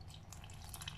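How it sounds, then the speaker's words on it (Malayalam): Salted water poured from a cup into flour for dough, a soft continuous trickling and dripping that sits close and steady with a low background hum throughout. "ഒന്ന് ഇതിലേക്ക് ഒഴിച്ചു കൊടുക്കുക. അത് ഉപ്പിട്ട വെള്ളമാണ്"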